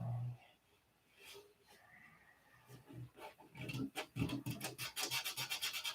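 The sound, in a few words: hand sanding a surface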